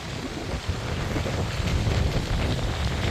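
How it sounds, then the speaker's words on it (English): A strong headwind buffets the microphone on a bike trail, a loud, steady roar of wind noise with low rumbling gusts throughout and no talking. "You can probably hear that wind. Quite a headwind."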